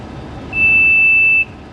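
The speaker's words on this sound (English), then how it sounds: "this disc have stopped, it beeps at us" A single steady electronic beep from a hay baler monitor holds for about a second over a low engine-like rumble, while baling Bahiagrass.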